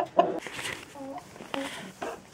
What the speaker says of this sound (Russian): Вот снимаю вам эту курицу